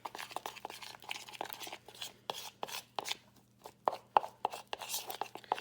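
Yellow food coloring is stirred into a thick homemade bouncy ball mixture, giving quick irregular scraping and tapping strokes, close and fairly soft, with quiet gaps between bursts.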